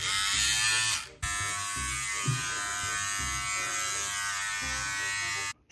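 An electric razor shaves with a steady close buzzing drone, briefly cut off once and switched back on, with a faint voice underneath.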